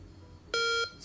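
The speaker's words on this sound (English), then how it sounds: "this tone basically comes on your phone up until you go and switch it off" Find-my-phone alert tone triggered from a Noise ColorFit Nav smartwatch: a single clear electronic beep lasting about a third of a second over quiet background, followed by the start of a second tone.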